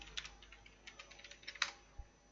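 Someone types on a computer keyboard while writing Java code, producing soft, quick irregular key clicks close by, with a sharper tap near the end.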